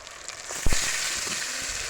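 Marinated duck meat hitting hot oil over fried onion and garlic in a clay pot, giving a steady close sizzle with a brief louder burst of crackling as the meat goes in.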